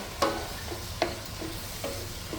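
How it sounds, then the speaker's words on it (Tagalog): Boiled shiitake mushrooms go into a sizzling risotto pan, a steady frying hiss with three sharp clinks of a utensil against the pan, close up. "Yung pinagpakulong ko pala ng shiitake mushroom, ilalagay ko rin dito."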